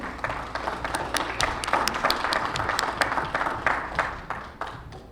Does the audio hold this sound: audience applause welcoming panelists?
yes